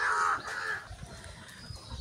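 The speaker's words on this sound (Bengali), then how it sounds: "অনেকদিন পর কাক দেখলাম" A crow caws in a loud, harsh burst at the start, followed by a fainter call, outdoors near mango trees in a rural setting.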